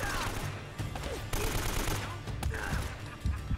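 AK rifle fire in Uncharted: Drake's Fortune, dense rapid bursts rattling through most of the clip with a brief lull near the middle, loud and close amid game noise.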